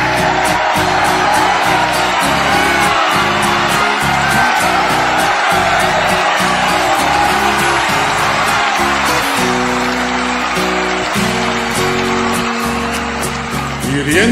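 Sustained, loud applause and scattered whoops from a concert audience welcoming a singer, a dense wash of clapping over a steady musical backdrop throughout.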